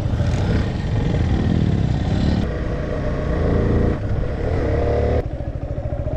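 A motorcycle is ridden on a road from Markhu and Kulekhani toward Chitlang near Kathmandu. Its engine drones close and loud throughout, mixed with strong wind rush and a few abrupt clunks.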